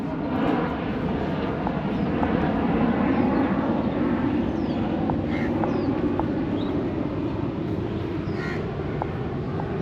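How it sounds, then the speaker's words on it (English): Fighter planes roar overhead in a dense, sustained rumble that fills the whole stretch, while crows caw intermittently above the noise. "Fighter planes का आवाज है ये"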